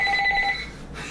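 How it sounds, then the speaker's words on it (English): A telephone rings with a short electronic trill, repeating tones over about half a second in a kitchen during pancake making, then fades to quiet room noise. "the phone's ringing"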